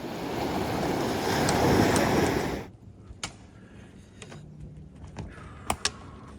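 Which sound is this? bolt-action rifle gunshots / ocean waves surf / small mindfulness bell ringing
ocean waves surf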